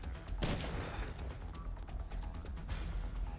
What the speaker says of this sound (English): Someone's shooting from the floor above.